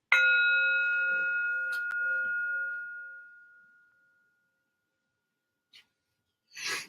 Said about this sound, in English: which reminds me of Thich Nhat Hanh, using his bell to signal awakening